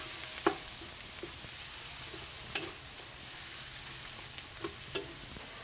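Pork belly, along with mixed vegetables, frying in a hot pan gives a low steady sizzle, punctuated by several sharp clinks and scrapes of stirring at irregular intervals, no voices.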